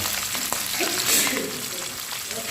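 Salted fish frying in hot oil, a steady close sizzle and crackle holding throughout with no talk over it.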